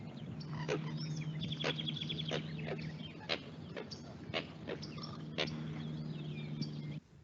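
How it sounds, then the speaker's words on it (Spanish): Spot-flanked gallinule (tingua de pico amarillo) calling in a wetland: repeated sharp, clicking and chattering notes in short bursts over a steady low hum and faint background birdsong, moderately near. "Ese es el sonido de la tingua de pico amarillo."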